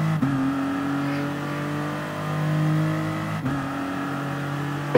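A car accelerating hard in the racing game GT Sport: a loud, steady engine drone climbs in pitch through two gear shifts, with no talk.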